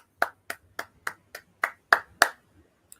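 Eight sharp hand claps in a steady, slightly slowing rhythm, close and clear, followed by one faint clap after a pause.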